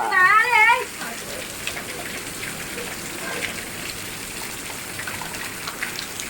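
Steady rain pours down and splashes on a surface, a dense hiss that fills the whole stretch after a cat meows a few times at the very start.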